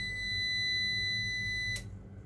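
A UPS battery backup running on battery power gives a steady, high electronic buzzing tone that cuts off abruptly with a click near the end, fairly quiet and alone.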